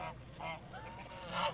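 Kars geese honk in a few short, harsh calls, with one louder burst near the end, fairly close by.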